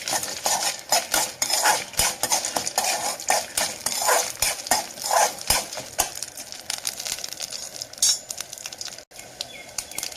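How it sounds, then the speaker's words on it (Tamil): Mustard seeds, chana dal, dried red chili and peanuts tempered in hot oil while being stirred, with rapid, busy clattering and scraping of a spoon against the pan over steady sizzling, close and loud throughout. "எண்ணெய் காஞ்சதும் நம்ம வந்து கடுகு, கடலைப்பருப்பு, வத்தல், நிலக்கடலை இது இவ்வளவும் போட்டு நம்ம என்ன பண்ண போகிறோம்"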